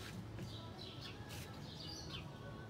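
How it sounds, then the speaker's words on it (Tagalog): Birds chirping around a small balcony: several faint, high tweets and short calls scattered over steady outdoor background noise, somewhat distant and with no talking. "Grabe yung mga ibon na yan."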